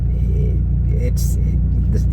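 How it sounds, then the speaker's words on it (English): A 2004 Dodge Viper GTS with a 500-horsepower V10 idles with a deep, steady exhaust rumble close by, while a person talks over it. "hearing the startup and the exhaust and the rumble of that V10, it's amazing."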